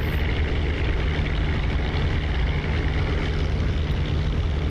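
A P-47 fighter's piston engine in the DCS flight simulator drones steadily just after takeoff, a heavy, constant, loud propeller roar filling the cockpit with no change in pitch.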